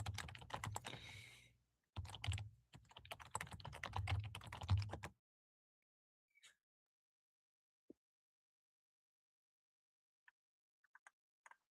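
Typing on a computer keyboard in bursts of rapid clicks, loud and close for about five seconds, then a few scattered, isolated keystrokes in near silence.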